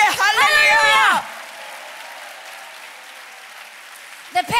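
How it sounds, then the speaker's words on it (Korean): A congregation at a church revival meeting claps after a loud shouted voice; the clapping continues softer and steady, with another brief vocal burst at the end. "Put your hands together."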